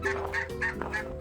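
Homestead turkeys gobble close by in quick warbling bursts, about four rapid pulses packed into a second with no other sound.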